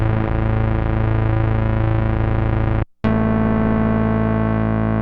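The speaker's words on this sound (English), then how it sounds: "there's that big, like, Moog-like synth bass that comes in about halfway through. That's this sound. I call this viral PWM" A Roland Juno 2 plays a big Moog-like synth bass patch built on pulse-width modulation, a thick, buzzy sustained tone that drops out for a split second and then continues, loud and alone with no voices.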